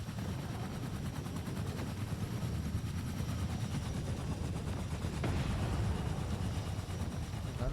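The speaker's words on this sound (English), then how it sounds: "When I come out, I think the helicopters move further away" A helicopter in the Fortnite video game drones as a steady, faint rotor wash, with dense rapid chopping throughout and a slight swell in level partway through, heard alone without talk.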